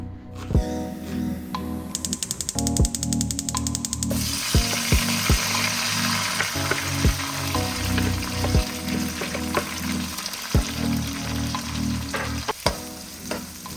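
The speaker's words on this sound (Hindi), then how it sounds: "मैं लंच और डिनर बहुत अर्ली ही आज घर पे ही कुक कर रहा हूँ" Food frying and sizzling on a home stove, with a spatula scraping and stirring in the pan and a burst of rattling clatter early on; loud and steady with no talk.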